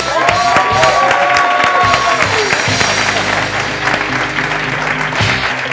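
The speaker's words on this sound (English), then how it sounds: "We're going to give him the warmest rockstar applause." At a Startup Grind tech event in Barcelona, a standing audience gives loud, sustained applause with some cheering and whoops, close and full throughout.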